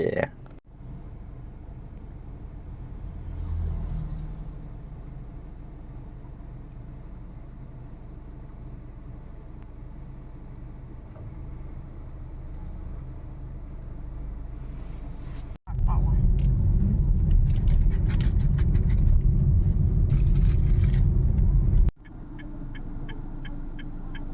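Car driving along a road, a steady low engine and road rumble inside the cabin, growing louder and harsher for a stretch with rattling, then settling back.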